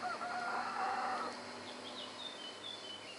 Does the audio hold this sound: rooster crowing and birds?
yes